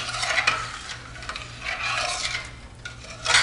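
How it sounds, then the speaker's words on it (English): Yellow-colored rice being stirred in a pot: repeated scraping and rustling strokes of a spoon against the pot over a faint sizzle, with no voices. "we want to stir this up"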